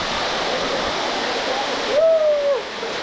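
A tall waterfall jet at Garganta del Diablo in São Thomé das Letras, Brazil, pours down in a cold, steady rushing roar heard up close, with a brief high whistling whoop rising over the water near the end.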